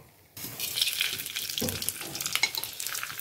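Dry chillies and bay leaves dropped into hot oil in a wok, a sudden loud sizzle that keeps crackling close, with a stirring scrape partway through.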